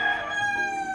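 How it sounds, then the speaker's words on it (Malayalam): A rooster crows at dawn in Bali, a single sustained cock-a-doodle-doo with a bright, harmonic tone, heard at moderate distance and clear of any talk. "കോഴി കൂവുന്നുണ്ടോ രാവിലെ? അത് മൊത്തം കോഴിയാണ് ഗൈസ്."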